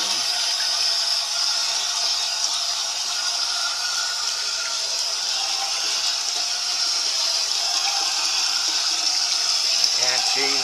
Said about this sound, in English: I can't change the flow of the water at all